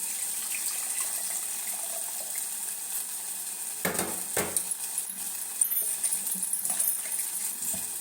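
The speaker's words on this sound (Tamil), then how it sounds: "கரைச்ச புளியை கொஞ்சம் மிக்ஸி கப்பில் விட்டுருக்கேன். அதையும் இதில் விட்டுருவேன்." Dissolved tamarind water is poured into a pan for pirandai rasam. It gives a soft, close, running splash with a few brief louder gushes partway through. Nobody speaks.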